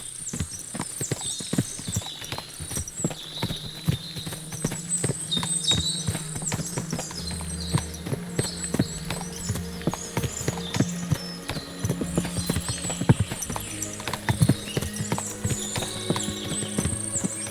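Steady clip-clop of many horses' hooves trotting in the video game Kingdom Come: Deliverance II, with creaking, mechanical rattles and a low rumble underneath, continuous and moderately loud throughout.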